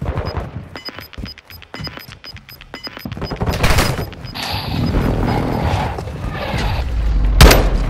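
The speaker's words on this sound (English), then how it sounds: "Hostile airstrike incoming." Heavy gunfire and booming blasts from a hostile airstrike in Call of Duty: Modern Warfare 2 — rapid shots early, then dense, rumbling explosions and crashes build and overlap, ending with a sharp loud burst.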